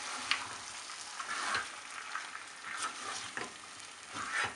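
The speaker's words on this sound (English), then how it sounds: "Mix well with the mutton." Mutton with strained mustard paste and slit green chilies is stirred in a pan, making a soft, steady sizzle with occasional scraping strokes, close up and fairly quiet, with no voices.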